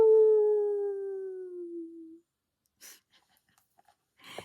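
A person imitates a dog or wolf howl with one long, falling, wavering tone that fades out, followed by faint breaths and small rustles.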